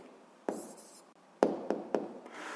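An answer being written out by hand for a physics exercise: a dry scratching stroke followed by several sharp taps and short scribbles of pen on paper, close and fairly quiet, with no voices.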